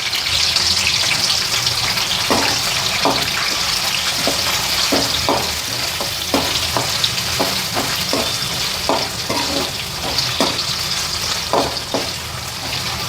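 Onions and green chillies fry in ghee with a steady bright sizzle, while a spoon stirs and taps against the pan in a loose, irregular rhythm, close and fairly loud, with no voices.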